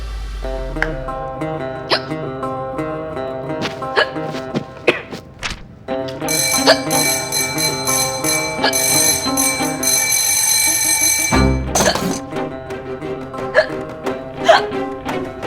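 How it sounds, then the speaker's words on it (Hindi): Rapid hiccups from a woman in a Hindi TV comedy series, a string of sharp bursts sounding over bright bell-like music tones, with no talking. "आपको इतनी हिचकी क्यों आ रही है?"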